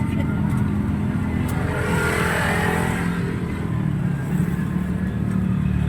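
A car drives close behind amid a crowded street, a steady engine rumble and road noise with a slight rise in revving, under excited overlapping talk.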